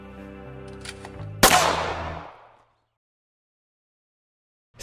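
Video-game gunfire rattles over a bed of game music, then one sharp, loud shot cracks and rings out into a long fading tail before near silence.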